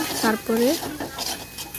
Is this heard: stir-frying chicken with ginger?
yes